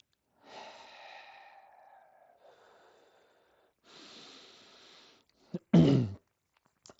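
Heavy, rapid breathing with rough, airy breaths in two stretches, ending in a loud, sharp snort-like exhale, close to the mic with no talking.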